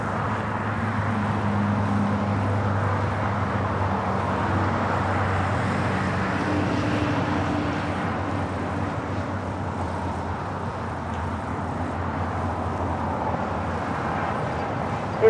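A Lufthansa jet crossing over at LAX airport, heard as a steady, sustained low engine drone and rumble blended with distant roadway-like noise, holding evenly throughout.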